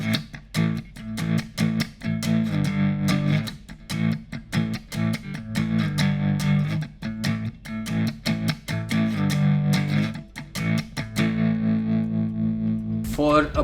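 Enya Nova Go Sonic smart electric guitar played through a high-gain distortion effect, with a run of choppy, rhythmic muted chords and sustained distorted chords, loud and close, ending with a brief string scrape.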